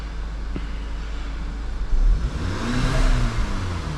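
A 2011 Volkswagen GTI engine running steadily at idle, its low even hum swelling partway through as if briefly revved, heard close with traffic-like background noise and no talk.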